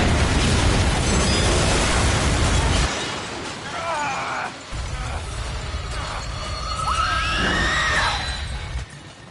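Barrels explode in Until Dawn with a loud shattering blast that fills the opening seconds, followed by crackling debris, scattered bursts and a voice shouting over the settling noise.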